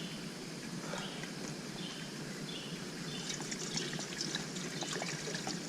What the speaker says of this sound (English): And we'll put some fresh water in there.